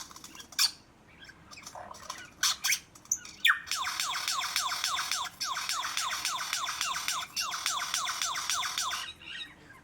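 A lyrebird displaying in a dark forest pours out loud, rapid, repetitive squawking and chirping calls, with a few scattered sharp notes first and then a dense continuous song sequence that runs for several seconds close by.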